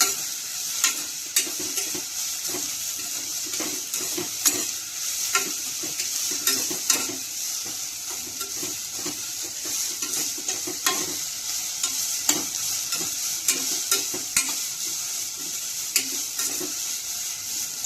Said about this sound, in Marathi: छान फ्राय करून घ्यायची, अगदी तिचा कटकट वास निघून जाईपर्यंत गरम होते ती छान।